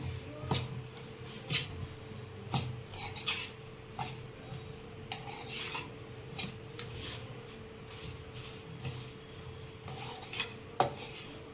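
A spoon mixes a dry green garlic and chilli chutney with lemon juice in a bowl, making quiet, irregular scraping clinks and taps that repeat through the stretch, with no voices.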